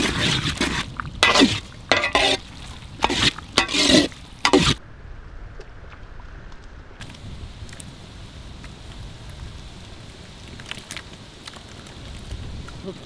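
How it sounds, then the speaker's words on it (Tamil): A spoon stirs squid and green peas in a hot pan with sharp scraping clatter over a sizzling frying hiss, the scraping stopping partway and the sizzle continuing alone. "கிண்டுங்க."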